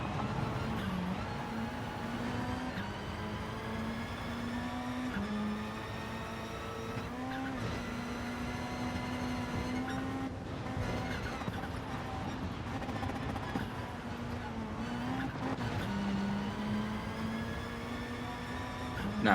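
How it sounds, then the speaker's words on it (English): Race car engine in the GT Sport video game on a rally ranch circuit, droning steadily with rising and falling revs and gear shifts, with occasional tire skids, loud and continuous throughout. "I come in far too hot and actually bounce the back of my car off of the wall"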